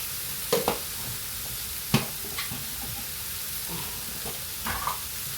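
Chilli powder fries in a pan for chicken curry, a soft steady sizzle with a few light clinks and stirring scrapes scattered over several seconds.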